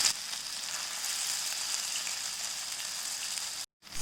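Baby corn frying in hot oil in a pan, a steady bright sizzle and crackle, close and continuous, cutting out abruptly for a moment near the end before resuming.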